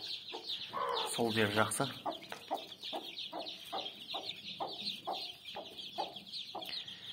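Incubator-hatched hen clucking repeatedly in a steady series of short calls near the microphone, with a brief rooster-like squawk early on and someone speaking briefly over it.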